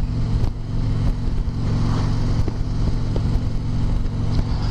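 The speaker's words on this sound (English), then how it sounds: "Much windier as those trucks go by you." Trucks roar past a Harley Davidson motorcycle on a windy road near Chelsea, Michigan, a loud, continuous low rumble of engine and wind noise with brief surges as the trucks go by.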